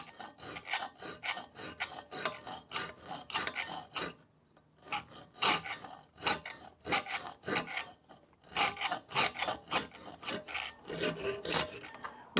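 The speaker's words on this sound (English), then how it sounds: "And what you can do is roll your file like that as you file." A hand file rasps across a bespoke metal mount for a Jaguar XK8 screen, worked in a rocking arc with steady rhythmic strokes, a short pause midway, close and clear with no talk.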